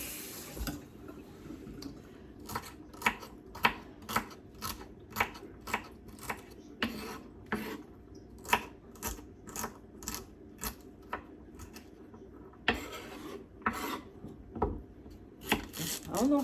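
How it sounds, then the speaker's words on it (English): A knife chops celery on a cutting board in a steady series of crisp, close taps, roughly two per second, with brief pauses and faint kitchen background. "Cutting up my celery right now."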